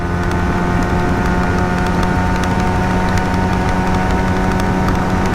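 A 2025 Yamaha XSR 155 motorcycle engine pulls hard in fourth gear during a top-speed run on an open road, a loud, steady drone with wind rush all the way through.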